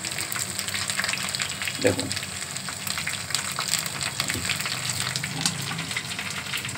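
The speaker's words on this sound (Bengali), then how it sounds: "এই যে ভাজা হচ্ছে ডিম, কর্নফ্লাওয়ার আর অল্প একটু ময়দা, হ্যাঁ এই দিয়ে ভাজা হচ্ছে" Fish coated in an egg, cornflour and flour batter fries in hot oil with a continuous soft sizzle. A voice speaks briefly over it.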